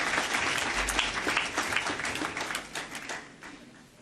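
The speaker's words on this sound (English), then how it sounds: "Give him a round of applause." At a legal year opening ceremony, the audience claps in a lively round of applause, dense at first and gradually thinning and fading over a few seconds.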